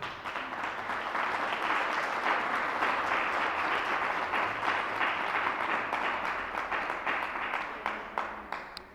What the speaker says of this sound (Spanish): vamos a honrarlos dándoles un fuerte aplauso